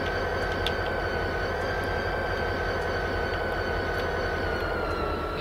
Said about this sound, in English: Right, I'm going to apply the brake now